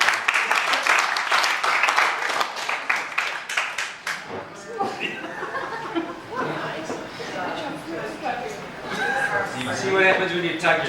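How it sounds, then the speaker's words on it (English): Dinner audience clapping after a magician's trick, a dense burst of applause that fades after a few seconds into chatter and light laughter from the tables. "Give it a nice round of applause for that."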